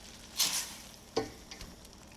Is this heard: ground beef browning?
yes